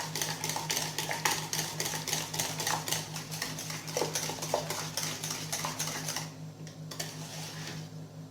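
A utensil stirs cream with banana in a bowl, making rapid rhythmic clicking and scraping strokes that stop near the end. It is fairly close and no one speaks.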